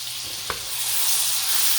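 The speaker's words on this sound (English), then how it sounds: "So what I'm going to do is get this garlic cooking a little bit" Garlic sizzling in a pan, a steady close bright hiss following a single soft knock near the start.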